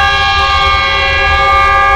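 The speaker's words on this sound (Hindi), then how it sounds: "लाहौर साइड से एक गुड्स ट्रेन आ रही है तूफानी रफ्तार में।" Goods train rushing through Sahiwal railway station in Pakistan at high speed, its loud, steady multi-tone horn sounding close and unbroken throughout, with a low rumble beneath.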